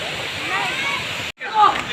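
Steady broadband rush of a waterfall at a mountain resort in Maragusan, Davao de Oro, continuous and fairly close, briefly cut off near the end before the rushing water resumes.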